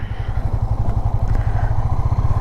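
Motorcycle engine running steadily as the rider heads back down the Kolli Hills in Salem on a solo ride, a close, continuous low throb with regular pulses and faint clatter throughout, no voices.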